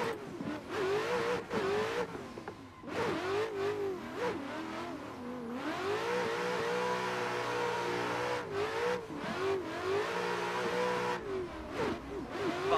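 A Ford and a Chevy race car in a racing video game rev and whine through the gears, their engine note repeatedly rising and dropping at shifts, loud and continuous with no voices.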